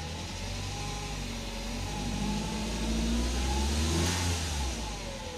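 A cold Nissan X-Trail engine idles at about 1000 RPM with a steady mid-pitched hum that swells gently midway, close and alone.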